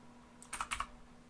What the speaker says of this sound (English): I'm gonna type the first one just so you can follow.